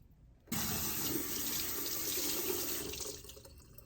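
Tap water starts abruptly and runs steadily into a sink while a cast iron pan is washed, a close, loud, continuous rush that eases slightly near the end.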